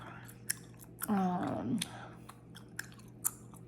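Gum chewing close to the microphone in a quiet room, with a few wet, sharp clicks and smacks spread across the stretch, interrupted once by a brief vocal sound.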